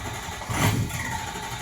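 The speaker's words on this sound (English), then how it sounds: "It would crank, fire, and it would just keep cranking. It wouldn't run after that." A Ford Excursion's 6.0L diesel engine cranking and catching briefly without staying running, a continuous loud mechanical churn that swells in the middle of the clip, no talking.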